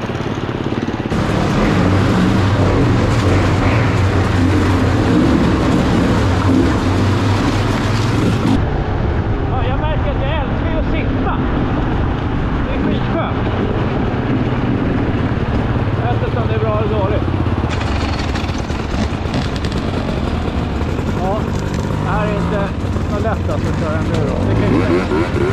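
An enduro motorcycle engine drones loud and steady throughout a ride, mixed with heavy wind rush at the helmet, while the rider talks over it now and then.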